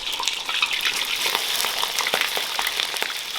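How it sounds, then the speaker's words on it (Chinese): Fish head and fish bones sizzle in a wok of mixed cooking oil and lard, a steady bright crackling hiss with scattered pops throughout, close and continuous with no talking. "然后把那个鱼脑壳和鱼排骨给它放进去，给它煎一下。"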